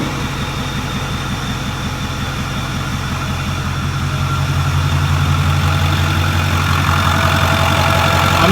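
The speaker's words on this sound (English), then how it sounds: "I'm going to let the truck run for a little bit" A pickup truck's 6.4 engine idles steadily while warming up, with a low, throbbing rumble that grows slightly louder toward the end, with no voices.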